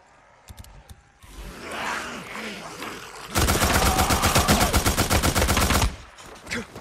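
Rapid automatic gunfire bursts out loudly in the video game Days Gone, a sustained string of close shots lasting a couple of seconds, with a voice speaking before and after the firing.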